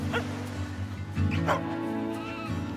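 A herding dog in a sheep herding video game trailer gives a few short barks and yips over a sustained musical drone, the calls spaced irregularly and fairly close.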